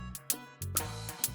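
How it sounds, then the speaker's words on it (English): A slap house drum loop with a hi-hat added, pounding kicks and bright off-beat hits in a steady quick rhythm, loud and alone with no voices. "I've added a hi-hat at the second part of the drums."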